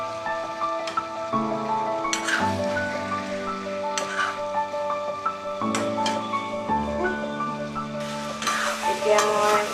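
Crushed ginger and garlic frying with chicken pieces in a pan, loud steady sizzling with stirring scrapes and spatula knocks at close range, no talk.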